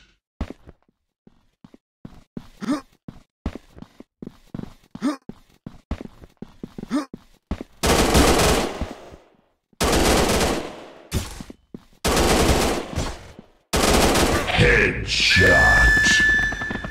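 Gunfire in the mobile shooter FPS Commando Gun Strike Ops 3D: a run of sharp single shots, then four long bursts of loud automatic fire separated by short pauses, with an electronic tone near the end.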